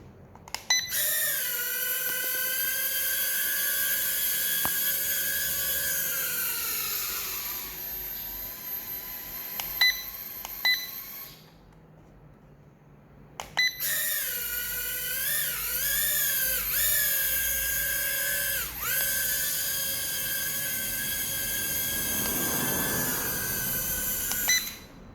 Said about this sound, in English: So there is the Holy Stone 450 mini drone.